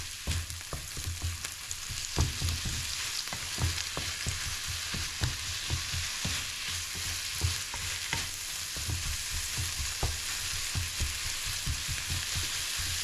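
Flaked onions frying in a pan for curried baked beans with corned beef hash, a steady close sizzle with frequent scraping stirs throughout and no talk.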